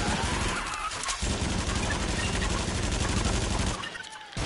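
Rapid gunfire fills a BrawLab PSVR virtual reality fighting game, a dense near-continuous rattle of shots at loud level with a brief dip near the start and another near the end.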